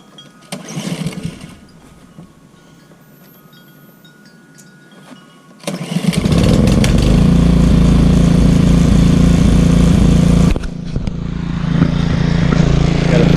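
Honda Harmony HRB 215 walk-behind lawn mower engine: a brief pull attempt, a quieter pause, then the engine fires and runs loud and steady nearby, dips briefly and picks back up.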